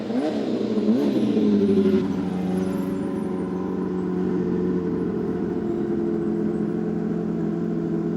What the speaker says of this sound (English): One of the great Indy cars, the Ilmor engined Penske PC19. There he goes, Gary Ward.